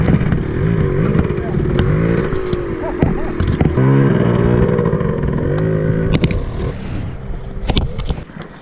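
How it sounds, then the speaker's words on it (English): A Hero Xpulse motorcycle engine drones and revs up and down nearby, mixed with bumps and clatter and a person talking over it. "Till you can hear his engine, it's all good."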